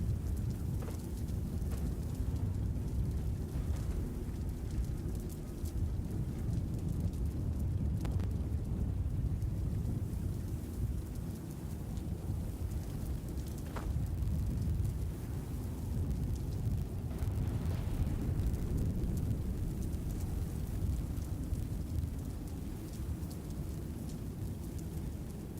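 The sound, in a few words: thunderstorm in Fallout 76 video game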